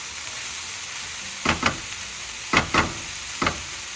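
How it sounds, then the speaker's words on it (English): Pancit vegetables fry in a pan with a steady soft sizzle, while a utensil stirs and knocks against the pan in a few separated bursts of scraping, close up with no voices. "And you're continuing to stir throughout."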